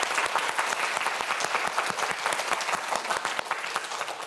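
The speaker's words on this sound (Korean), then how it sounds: "저희는 마지막으로 큰 박수 한번 보내주도록 하겠습니다." A studio audience on a Korean science quiz show applauds loudly and steadily, a dense close wash of clapping with no voices over it.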